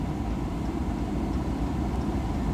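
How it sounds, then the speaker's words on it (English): Fan of a truck's windshield defogger blowing hard inside the cab after the glass fogged from rain, a steady, close, low-pitched rushing hum with no break. "Sorry about the blowing noise in here right now."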